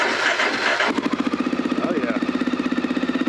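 A vintage Honda 650 dual sport motorcycle engine fires up on choke after a short crank, then settles into a loud, rhythmic, thumping idle close by, with a brief spoken remark.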